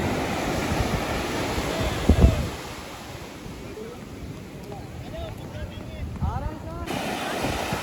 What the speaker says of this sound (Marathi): बघू शकता तुम्ही थोडं धरून लाटा येतात